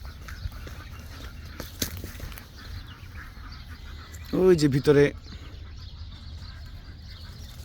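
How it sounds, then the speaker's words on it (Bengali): Ducks quack in a short burst of a few calls at a duck and chicken farm, standing out briefly against steady outdoor background noise, with a voice speaking nearby. "এখানে হাঁস মুরগির খামার আছে।"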